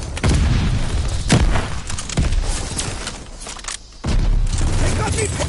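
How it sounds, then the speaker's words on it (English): A thrown stun grenade in Call of Duty Vanguard, a sharp bang and booming bursts amid loud, steady combat noise and game voices, with a brief near-silent dip before the racket resumes. "Tossing stun grenade!"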